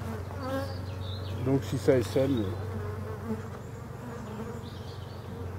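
Honeybees buzz steadily around a hive as a beekeeper works through honey supers, a continuous droning hum underneath, with someone speaking French briefly partway through.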